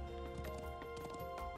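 Horse hooves from riding in the video game Trails of Cold Steel III, a steady clip-clop running under a busy, continuous bed of game music.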